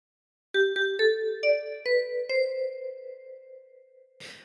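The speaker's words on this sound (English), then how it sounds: "practice this until you end up with something that sounds like this" A 10-key kalimba plucking the phrase of We Wish You a Merry Christmas, six bright metallic notes in quick succession, each ringing on and decaying, close and clear, ending with a short soft rustle.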